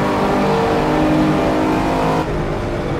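In Assetto Corsa, a race car's engine roars steadily at high revs while overtaking a Ferrari GTO, loud and close, then drops slightly in tone near the end.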